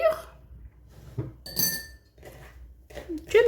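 Batter in a bowl being mixed after a pinch of salt and some yeast go in, with a few clinks and scrapes of a utensil against the bowl, close and intermittent, alongside faint vocal sounds.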